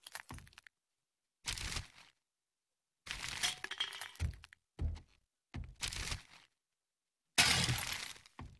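Glass breaking in the survival game 7 Days to Die, six separate bursts of shattering and cracking with silent gaps between them, fairly close and loud, the last crash the sharpest.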